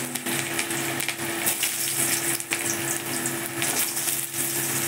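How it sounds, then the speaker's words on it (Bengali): Potatoes dropped into hot oil for frying give a steady, close sizzle with crackling and bubbling throughout, and no one speaks. "দেখুন আমার তেল গরম হয়ে গেছে, তো আমি তেলের মধ্যে আলুগুলো ছেড়ে দিচ্ছি।"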